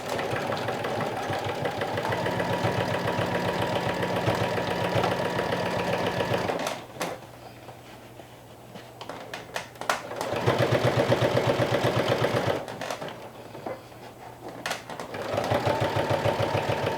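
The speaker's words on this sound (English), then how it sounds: "let's go ahead and top stitch the ponytail opening" A domestic sewing machine top stitches around the ponytail opening of a fabric bucket hat, running in steady rapid bursts of stitching separated by short pauses, close and fairly loud with no talking.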